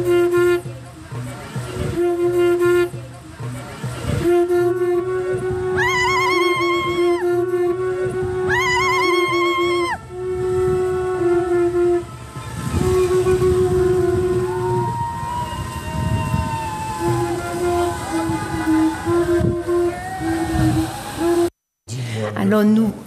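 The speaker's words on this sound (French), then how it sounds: "nous voyons dans la vidéo qu'il y a les ambulanciers qui sont en train de klaxonner" About a dozen ambulances at a protest blare their horns together in long, sustained overlapping tones with rising wails, loud and continuous, while crowd noise fills the background.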